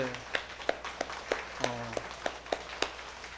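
A small church congregation claps at a steady, even pace in a sanctuary, individual hand claps standing out clearly over a faint background murmur.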